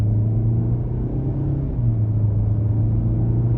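A 2022 Nissan Altima S accelerates at about half throttle in regular drive, heard from inside the cabin as a steady low engine drone and road rumble with a smooth rise in pitch, continuous and moderately loud, with no talk.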